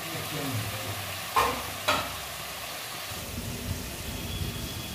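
Potatoes tossed into cooked-down masala in a pan, frying with a soft steady sizzle and stirring scrapes, with two sharper clatters early on as they go in; no talking.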